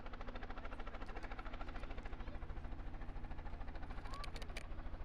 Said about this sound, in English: She's going to run away from the sound of the helicopter.